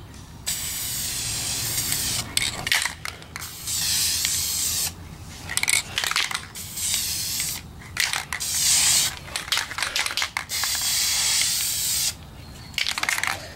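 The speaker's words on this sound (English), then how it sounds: "anytime you spray paint, you always want to start" A spray paint can hisses in repeated bursts of varying length while tinting car lights, loud and close, with short pauses and small clicks between sprays.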